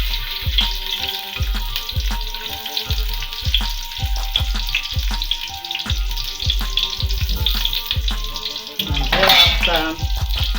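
Onion frying in hot groundnut oil hisses and sizzles steadily and up close, with a regular low thumping beat underneath and a brief louder crackle near the end.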